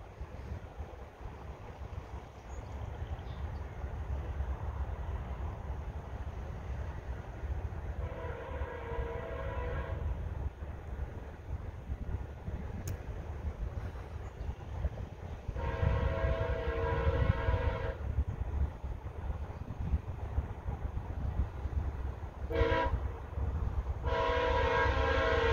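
Westbound VIA Rail passenger train 645 approaching Fallowfield Station, a steady rumble building as it nears, with several loud horn blasts sounding in bursts over the rolling noise.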